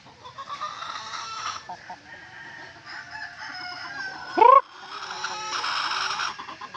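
Chickens on a farm cluck and murmur in a mixed flock, with one loud rising squawk standing out near the end and a busy bed of bird noise all around.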